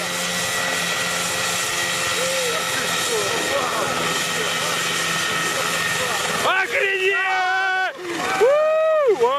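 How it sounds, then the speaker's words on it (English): A homemade helicopter built in Ukraine flies with a steady, loud rotor and engine drone throughout, then the pitch wavers and sweeps in rising and falling arcs near the end as it manoeuvres. "These guys in Ukraine built their own helicopter and it actually worked."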